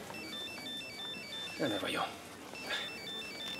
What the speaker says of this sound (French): je préférais que mon téléphone ne sonne pas aujourd'hui